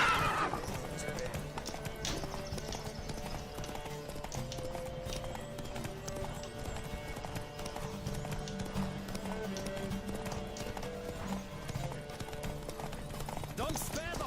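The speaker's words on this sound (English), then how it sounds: "Don't spare the horse!" Galloping horse hooves from The Witcher 3 drum in a steady, rapid clip-clop that runs the whole time beneath sustained game music, with a few whinnies and voices mixed in.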